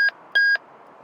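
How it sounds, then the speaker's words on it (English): Two sharp electronic beeps from a newly programmed analog two-way radio, a short tone followed by a longer one, loud and clear in otherwise quiet surroundings. "That beeping is annoying."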